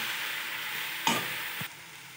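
Milk and sugar stirred in a pan for an evening homemade dish: a steady soft sizzling wash throughout, with a brief louder scrape of the spoon midway and a short knock near the end.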